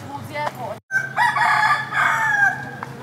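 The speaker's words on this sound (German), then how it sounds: "Und ich habe gerade einen Hahn entdeckt." Rooster crowing in a long, strained call at moderate distance outdoors on Ko Samui, Thailand, with a steady background hum and a short break before the crow.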